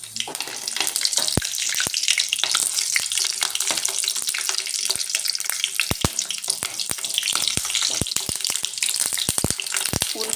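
Stuffed capsicums sputter in hot oil in a kadhai, a loud continuous crackle broken by frequent sharp pops and spatters, close up and alone without talk.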